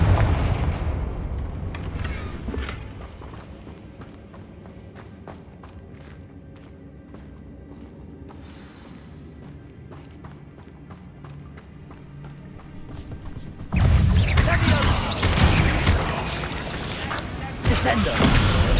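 Confringo blasting-spell explosions in the video game Hogwarts Legacy, a series of sharp booms and crackling bursts, loud and close, building into a dense, heavy roar of blasts toward the end.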